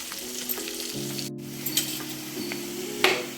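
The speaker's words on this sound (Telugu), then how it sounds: "ఇప్పుడు ఇవన్నీ చక్కగా వేగాలి" Onions frying steadily in a pan for a ginger curry (allam pulusu), with an even sizzle, a few soft stirring scrapes and a brief clink near the end, no voices.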